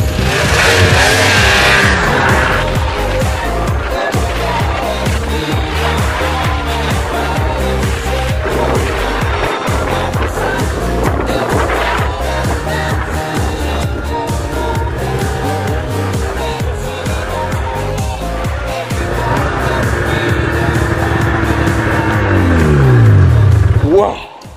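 Snowmobile riding on a cold winter trail out of a swamp, its engine revving loud and close in a continuous roar that rises and falls with throttle, ending with a sharp rising whine before cutting off.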